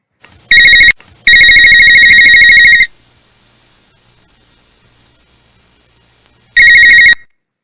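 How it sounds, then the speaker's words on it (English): A mobile phone ringtone plays in loud, bright electronic bursts: a short burst, a longer ringing phrase, a long pause with faint hiss, then another brief burst near the end. No voices. "This is the sound of a mobile phone."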